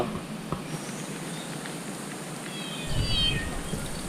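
After a quiet stretch, a cat lets out one soft, rising meow near the end, with faint rustling underneath.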